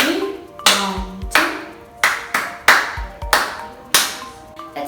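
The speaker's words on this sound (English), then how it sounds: "In doing the figure 3, you must follow this clap pattern." Hand claps in a rhythmic pattern for the Tiklos folk dance, about ten sharp, close claps grouped in short bursts with brief pauses, loud and clear with no talking.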